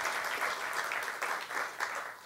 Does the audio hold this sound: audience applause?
yes